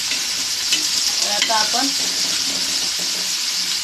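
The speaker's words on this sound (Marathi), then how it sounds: "कांदा परतून घेऊयात।" Onions sprinkled with a little salt sauté in a pan, giving a constant, close frying sizzle with faint stirring. Someone speaks briefly over it.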